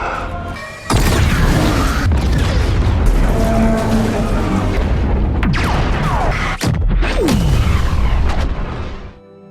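Cannon fire from an airship aimed at a village in a film scene, loud booming blasts and crashing impacts over a rumbling bed, with a final sharp shot near the end before it fades.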